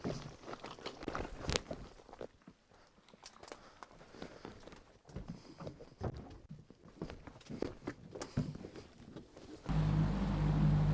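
Boat motor on a lake during a turkey hunt, roaring up loud and close in the final second after a stretch of crunching, shuffling movement sounds.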